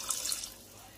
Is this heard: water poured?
yes